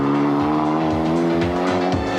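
A rally car races flat out on a fast gravel stage at Telstra Rally Australia, its engine loud and close, revving high with rapid gear changes and a steady roar throughout.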